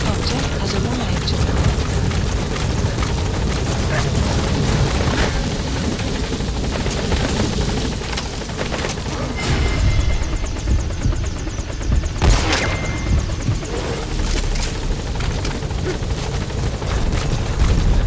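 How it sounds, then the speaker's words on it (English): In Metal Gear Solid V, a support helicopter arrives with a loud continuous rotor thrum and engine roar, mixed with gunfire bursts and booms throughout, while voices talk over it. "Support helicopter has arrived."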